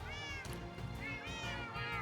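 A brown cat in Minecraft meows about three times in quick succession, close and clear, with short pauses between the calls.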